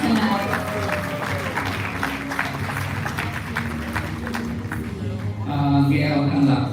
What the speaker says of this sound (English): Let's give a big round of applause for all of our awardees, our pioneer awardees tonight.